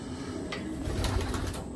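Racing pigeons at their loft coo softly in a brief, low burbling call amid faint background noise.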